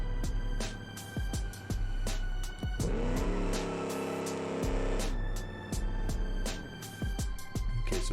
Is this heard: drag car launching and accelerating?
yes